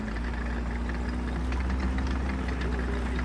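A tank engine idles in the War Thunder video game, a steady low throbbing hum with a faint knocking texture that runs evenly and fairly quietly with no voices.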